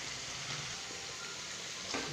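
Vegetable poriyal stir-frying in a pan, a dense, even sizzle close by with faint scraping of stirring underneath, continuous and alone.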